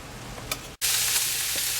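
Meat browning in a hot pan gives a steady, close, fairly loud sizzle that drops out briefly near the start, then returns as a continuous bright hiss.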